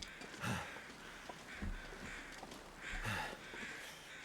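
Crows cawing in the snowy wilderness of The Long Dark, a few harsh calls spaced apart over a steady windy ambience, fairly faint and distant.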